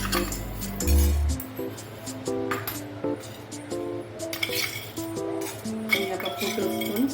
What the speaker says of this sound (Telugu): వితౌట్ ఆయిల్తో పప్పులు ఫ్రై చేసుకోవాలి.